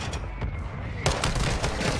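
Shotgun fire in an online shooter video game, loud blasts in quick succession, the second hit sharper and brighter, up close over continuous game noise.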